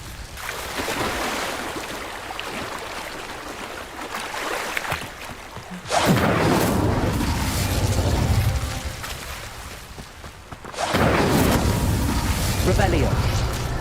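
Incendio fire spell in Hogwarts Legacy bursts out as loud whooshing blasts, three surges a few seconds apart. Each roars and then fades, with speech mixed in.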